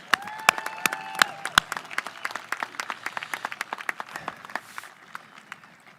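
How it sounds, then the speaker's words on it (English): Audience applause at a 2021 high school graduation ceremony, a burst of scattered clapping with a few sharp close claps at first, thinning out and fading over several seconds. "give them a round of applause"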